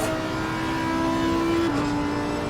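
An Audi race car in Assetto Corsa Competizione at Spa, its engine holding a steady, buzzing drone before the pitch drops abruptly at a gearshift and carries on, with no talk over it.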